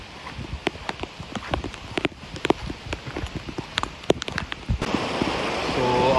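Rain patters on a slippery monsoon trail near Dhodani Waterfall outside Mumbai, with steady close hiss and dense irregular drops and taps, and a brighter rush of water swelling toward the end.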